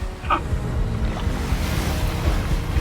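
A boat in a Call of Duty video game churns through water with a steady low rumble and washing waves, fairly quiet and continuous, with no voices.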